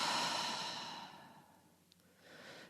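A long slow exhale through the mouth, soft and breathy, fading out over about two seconds, followed by a quieter breath.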